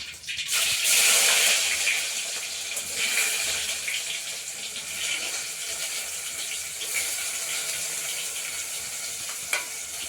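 Chopped onion tipped into hot oil already holding mustard and cumin seeds for spiced rice, setting off a loud, bright hiss that settles into a steady, close sizzle, with a faint clink near the end.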